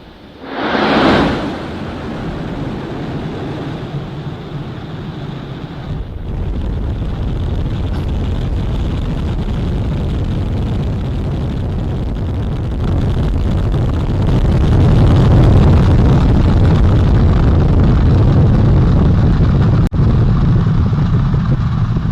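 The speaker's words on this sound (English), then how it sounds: "On the core stage and 2 solid rocket boosters now propelling the vehicle at 128 miles per hour." Launch of the most powerful rocket, bound for the moon, on 16 November 2022: core stage engines and two solid rocket boosters roar as a loud, continuous broadband rumble that swells heavier and deeper as it goes on.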